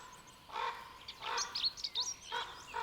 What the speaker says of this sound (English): Ravens are often heard wherever wolves are eating.